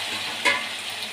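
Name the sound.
tomato pieces added to cucumber and drumstick curry in pan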